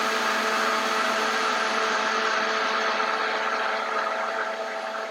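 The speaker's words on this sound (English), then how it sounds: "put your lid on your blender." Blender running steadily as it purees an apple and peanut butter smoothie, a loud, continuous whirring motor drone that holds even for about five seconds with no talking.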